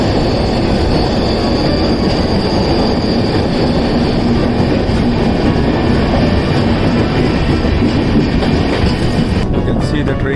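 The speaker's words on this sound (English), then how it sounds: "See the train entering the tunnel." Train on the Mumbai–Chennai railway line entering a tunnel near Monkey Hill, a steady loud rumble and clatter of wheels on rails filling the whole stretch, with the sound dropping away at the very end.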